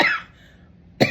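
Two harsh coughs from a person with asthma, one at the start and another after a short quiet pause, close and loud with no talk.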